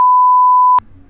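A loud, steady sine-tone censor beep lasts just under a second and cuts off abruptly into near silence with faint background noise.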